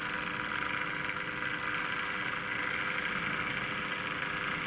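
A Hornby model train crawls along at its slowest speed, its small motor giving off a continuous, even hum and whir that holds steady throughout without any voices.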